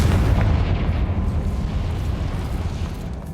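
A Confringo fire spell explodes in the Hogwarts Legacy video game, a deep booming blast with a rumbling tail that slowly fades, heard alone.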